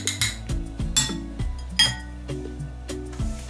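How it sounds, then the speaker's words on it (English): Metal spoon clinking repeatedly against a glass or cup while stirring a ginger remedy drink, a series of bright chinks and taps at an uneven rhythm, close and clear with no voices. "Stir like so,"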